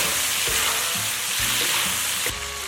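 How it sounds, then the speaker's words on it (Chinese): Fried pork belly stir-fried with cooking wine in a wok of caramelized rock sugar, a loud close hiss and sizzle with rhythmic scraping thuds of the spatula and a final clank. "倒入一点料酒炒匀"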